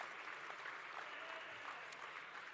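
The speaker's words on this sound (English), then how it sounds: "Big round of applause for all of our medalists from the Creative Arts and Fashion Cluster." An audience at the closing ceremony of a skills competition applauds medalists from the creative arts and fashion cluster, with dense, even clapping that fills the space at a steady level, faint and somewhat distant.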